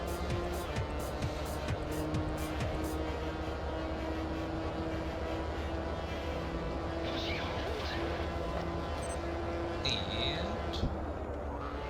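A race car in R Racing Evolution sweeps through a fast corner on a circuit, its engine droning steadily at mid-distance with occasional tyre squeal, and someone talks over it throughout.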